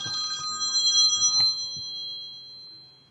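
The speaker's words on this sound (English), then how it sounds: "my phone's ringing." A telephone rings in a quiet indoor space, bright repeated electronic trills for about a second and a half before the tone fades and rings out.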